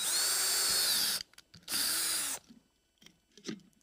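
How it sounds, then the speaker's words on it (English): A power drill boring holes into a thrifted planter, in two loud sustained bursts of steady whine separated by a short pause, followed by faint handling clicks and knocks. "I'm just going to go in and drill a couple holes"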